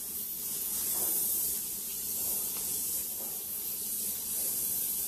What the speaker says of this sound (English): And you can actually hear the leak